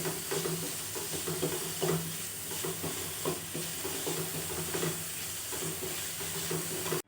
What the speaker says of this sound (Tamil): நம்ம நல்லா வதக்கிக்கலாம்